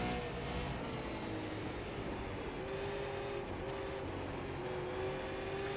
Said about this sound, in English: The tires are screaming.